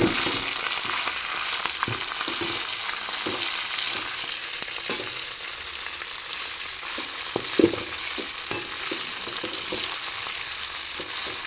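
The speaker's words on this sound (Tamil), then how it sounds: "நல்லா வதக்கிடலாம்." Drumstick leaves (murungai keerai) sautéing in a pan, a continuous close sizzle with occasional stirring scrapes and taps, no voices.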